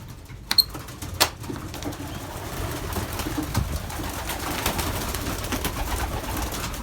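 Belgian racing pigeons fill a loft during a morning feeding, with steady close rustling and shuffling, two brief sharp wing claps near the start, and soft cooing under the busy texture throughout.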